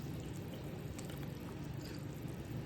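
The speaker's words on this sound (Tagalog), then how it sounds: "Tsaka magdadagdag tayo ng patis." Fish sauce is poured into a pot of tinola chicken soup, making a soft, continuous liquid trickle and splash over a background of cooking noise, with no voices.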